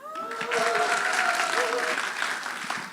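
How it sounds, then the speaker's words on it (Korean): Studio audience at a Korean lecture applauds, a dense wash of clapping that swells quickly and holds steady for a few seconds, with a few voices calling out over it. "박수"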